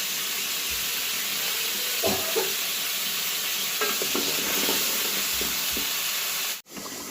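Potatoes frying in about a spoonful of oil with a pinch of salt, a steady close sizzle with occasional stirring scrapes of a utensil in the pan, briefly cut off near the end.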